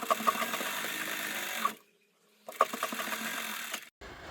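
A sewing machine stitches a palazzo seam in rapid, close bursts of mechanical whirring, stopping for a short pause before running again, then halting briefly at the end.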